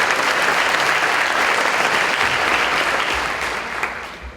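Audience applause fills an evening event hall, a dense, steady wash of many hands clapping at full strength before tapering slightly toward the end, with no talk over it.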